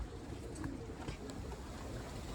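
Roller and tippler pigeons coo softly at an outdoor loft, faint calls rising over a steady wash of background noise, with no talking.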